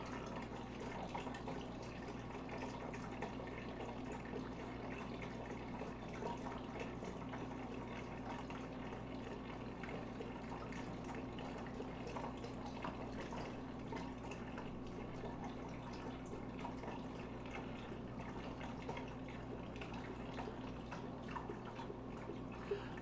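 A steady, even rush of liquid pouring continuously into a pot, fairly faint and unchanging throughout, with no voices.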